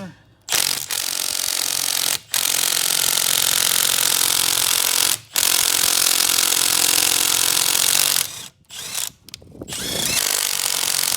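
A Milwaukee cordless power tool whirs and grinds in long, loud sustained bursts while removing a car's lug nuts in a shop, broken by short pauses and a few quick stuttering pulses near the end.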